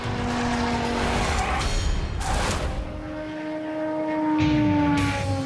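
An Indy race car driving through a torrential rainstorm, its engine note rising and falling in whining sweeps with spray and hiss, passing close with no talk.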